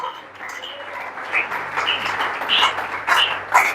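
A congregation applauds and cheers in praise of God during a church sermon, with steady dense clapping and cheering voices filling the room for several seconds, swelling louder toward the end.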